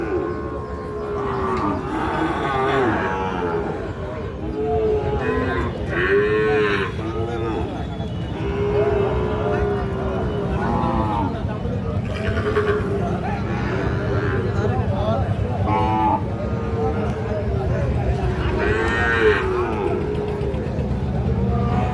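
Sahiwal bull calves moo repeatedly at a busy village cattle market, low calls rising over a constant crowd murmur and voices, with distant vehicle rumble.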